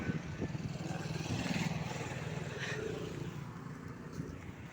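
A motorbike rolls downhill beside a canal, a faint, steady engine hum under wind, continuous with no clear breaks.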